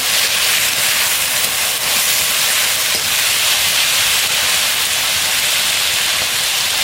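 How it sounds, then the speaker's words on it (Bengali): Potatoes frying hard in a pan for village-style chow mein noodles, a loud, steady hiss of sizzling oil that runs continuously without a break. "আলুগুলো বেশ ভালো করে ভাজবো লাল লাল করে"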